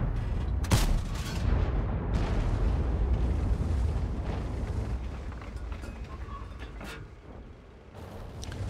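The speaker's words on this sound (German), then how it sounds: "Die Granate ist in den Boden geflogen." A tank shell from a Type 61 tank slams into the ground in a video game, a heavy explosive boom with a rumbling roar that fades slowly over several seconds, with no voices.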